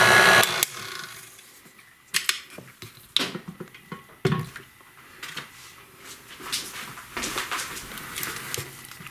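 A spatula scrapes cream cheese down the sides of a mixing bowl in a home kitchen: intermittent close scraping and knocking strokes in short bursts, with quieter gaps between them.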